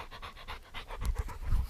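A dog panting on a mountain summit above the fog, quick rhythmic breaths close to the listener, faint at first and then heavier, with no talking.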